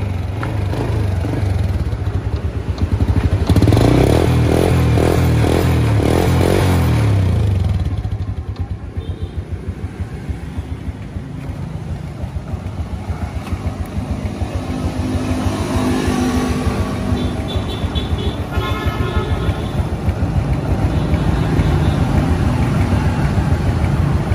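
A 2006 Honda Wave Alpha motorcycle engine idles close by in a steady putter, rising briefly into a louder revving burst early on before settling back to a smooth, even idle.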